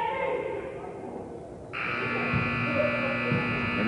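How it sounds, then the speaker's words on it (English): A basketball game buzzer sounds at the end of a half between the MNBL Lakers and Sixers: a loud, steady electronic tone starts suddenly partway through and holds over faint crowd noise. "the buzzer sounds"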